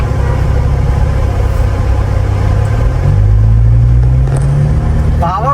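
Modified Jeep Wrangler Rubicon with an 8-speed automatic, 22-inch wheels and heavy mods, pulling out slowly with a steady low engine drone and a gradual rise in pitch, close and loud, no talk.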